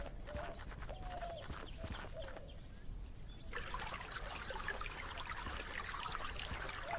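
Clear spring water trickling gently in an outdoor video game scene, a soft continuous babble accompanied by steady cricket and insect chirping, calm and moderately quiet with no voices.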